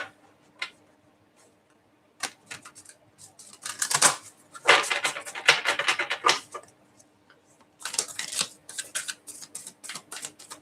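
Tarot cards are shuffled by hand in uneven bursts of quick papery riffles and taps, close and fairly soft, with quiet gaps between flurries.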